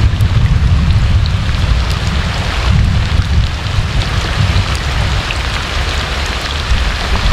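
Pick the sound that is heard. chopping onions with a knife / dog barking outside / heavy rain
heavy rain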